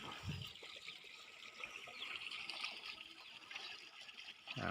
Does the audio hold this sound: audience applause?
no